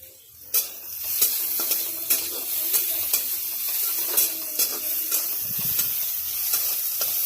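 Onions browning in a frying pan sizzle and hiss continuously, with regular scraping taps from a stirring utensil throughout.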